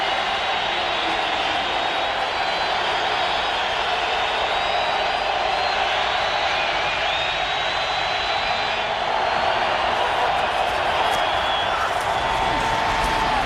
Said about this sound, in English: The crowd chanting, hoping the defense can hold